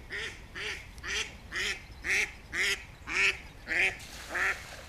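Ducks quacking by the water at a fishing spot, a steady run of about nine loud nasal quacks in an even rhythm, fairly close, with no talk over them.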